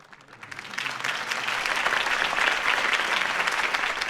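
Crowd applause at a political rally for Harvey Dent in the Batman Telltale Series game, clapping that swells up from quiet to a full, sustained dense roar of hands.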